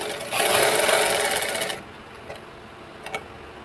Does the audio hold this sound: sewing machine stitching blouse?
yes